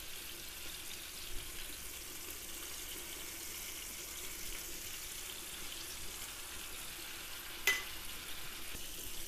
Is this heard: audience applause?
no